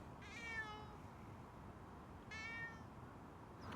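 A cat meows twice, faint and somewhat distant, about two seconds apart, over a steady low background hum.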